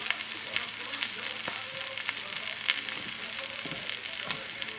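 Pork chops encrusted with corn meal and caraway frying in a pan over a modest flame, giving a steady bright sizzle with crackling pops and a few light clinks throughout.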